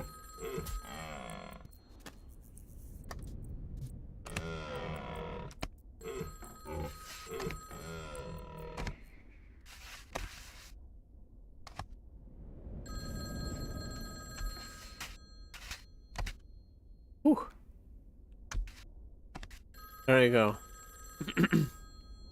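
A telephone bell rings in the video game Baby Steps, repeated bursts of ringing against game sounds while someone talks over much of it.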